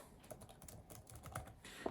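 Typing on an Apple Magic Keyboard with scissor switches, a steady run of soft, quick clicking keystrokes close up and fairly quiet, with no voices.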